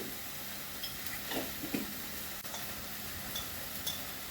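Chilli, coriander, cumin and turmeric powder masala fries with a continuous sizzle in a pan for masala potol, broken by a few soft scraping stirs and light clinks.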